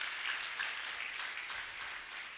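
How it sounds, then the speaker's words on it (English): Audience applause at a Nigeria Women Football League press conference, a fairly quiet, steady patter of many hands clapping throughout. "Please, a round of applause for Talcan Energy."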